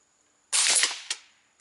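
A single rifle shot fired over a chronograph, one sharp, loud crack with a short decaying tail and a small second snap just after, then quiet.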